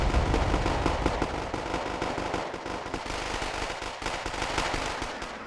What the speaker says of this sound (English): the Marines outrange them with their machine guns